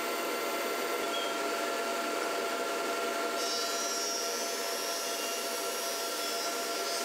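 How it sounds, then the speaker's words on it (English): A thicknesser planer with a quiet cutter block planing wooden beams flat to a set dimension, giving a continuous, even machine roar and rushing cut with no talk. "Then down flat and planing to the specified dimension."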